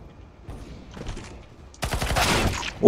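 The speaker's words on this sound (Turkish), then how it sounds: "Adam nişancıyla vuruyor beni." Gunfire in Counter-Strike: Global Offensive: a few scattered shots at first, then a dense burst of rapid automatic fire that ends in a loud sharp crack.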